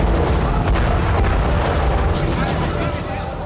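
Blast from an Israeli strike on the Iranian embassy in Syria: a loud, sustained low rumble and roar filling the whole clip, with crackling debris-like noise above it and some talk mixed in.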